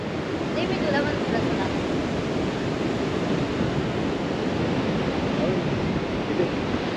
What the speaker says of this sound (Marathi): ॲक्च्युली बीचवर एवढा वारा आहे ना,